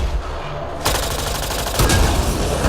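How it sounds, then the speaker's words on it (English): Gunfire in Mass Effect: Andromeda aimed at a Kett device, heard as a dense, loud stretch of rapid shots that starts suddenly and intensifies partway through amid game ambience. "Shooting the device will destroy it."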